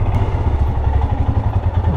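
A motorbike moves through a narrow, crowded town street in France, with a loud, close, steady engine rumble and faint rattling throughout.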